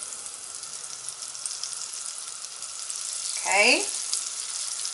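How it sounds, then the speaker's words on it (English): Cheese balls made with feta and Dubliner cheese frying in hot oil, a steady close sizzle throughout with a brief louder crackle as a piece drops in, and a short spoken word over it. "So now that it's heated, I'm just going to start adding them in. And these are going to fry up for a few minutes on each side."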